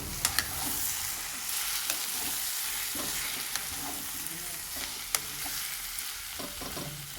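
Chili powder and salt being stirred into an egg and drumstick curry in a pan, with a steady sizzle and sharp clicks and scrapes of the spoon against the pan, no talking.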